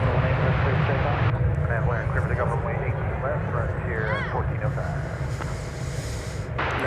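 An airliner landing at DFW Airport sends a loud, steady engine roar with wind rumble throughout, while a voice talks over it.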